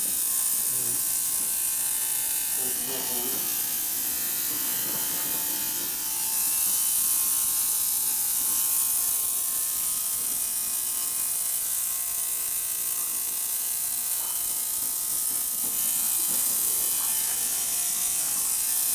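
An ultrasonic cleaner runs while cleaning a SU Weber carburetor, giving a steady, loud, buzzing mechanical hum that continues unbroken from start to end.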